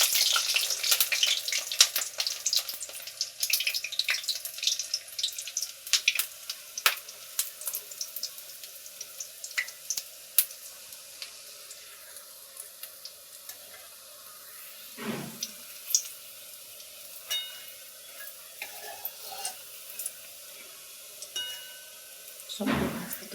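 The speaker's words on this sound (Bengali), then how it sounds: "একটু লাল লাল করে ভেজে নিয়ে সবগুলো ভেজে নিয়ে" Raw banana kofta balls fry in hot oil with a steady crackling sizzle, busier and louder at first and then settling, broken by a couple of low knocks near the end; no one speaks.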